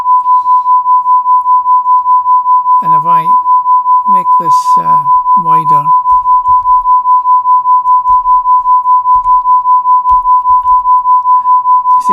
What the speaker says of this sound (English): You can hear the beat frequency now.